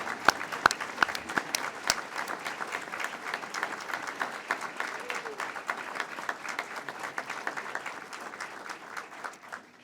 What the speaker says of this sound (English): join me in a round of applause for them